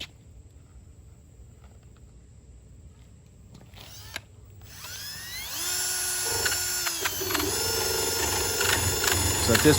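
An electric drill spins an eraser wheel attachment; after a few quiet seconds the motor whirs up into a rising, whining drone that grows louder and holds to the end, with no talking.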